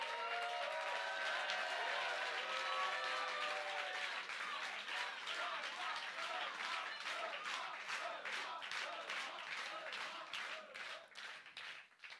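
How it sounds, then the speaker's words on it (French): A crowd at an ecologist political rally in Paris breaks into loud, sustained applause with scattered cheers. The clapping thins and fades toward the end. "je propose qu'on fasse aussi un tonnerre d'applaudissements à Benoît Biteau"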